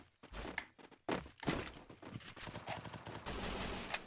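Rapid gunfire from a solo ranked battle royale match, bursts of sharp shots and thuds packed close together over a steady game backdrop, fairly loud throughout.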